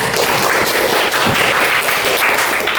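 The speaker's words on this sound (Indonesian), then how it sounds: "Sekali lagi kita kasih tepuk tangan dulu" Steady, dense applause from a seated audience after a presentation and question-and-answer session, loud and continuous throughout with no speech over it.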